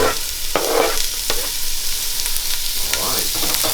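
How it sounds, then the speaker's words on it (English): Onions sizzle and fry in hot oil in a large pot, a continuous bright crackling hiss with a few sharper pops and a stirring clatter near the start. "So here goes the onions in there."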